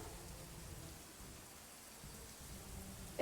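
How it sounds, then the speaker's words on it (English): Steady rain falls as a stage sound effect during a theatre performance, a continuous broadband hiss that holds evenly throughout with no voices over it. "It's raining."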